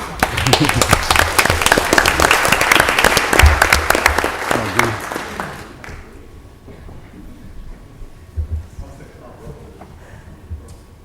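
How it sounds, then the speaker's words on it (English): Audience applause fills a Mobile city council meeting in August 2021, a dense, loud burst of clapping that fades after about six seconds into quiet room noise with faint murmuring. "Let's give a hand clap as they come."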